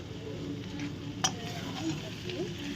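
A spoon stirs muri ghonto, a Bengali rice-and-fish-head dish finished with ghee, in a pan, giving soft scraping and a low sizzle with one sharp metallic clink midway, close and steady.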